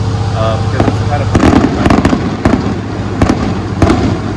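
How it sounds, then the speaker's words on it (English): Fireworks go off in the town of San Andres Xecul, Guatemala, on a special church day: a string of sharp, loud cracks and bangs bursting at irregular intervals, with people talking nearby. "We got fireworks"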